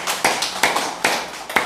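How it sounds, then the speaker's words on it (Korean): A church congregation claps in unison, about five sharp, loud, evenly spaced claps in a steady beat close by, with no talking over them. "하나님께 박수로 영광 돌리겠습니다."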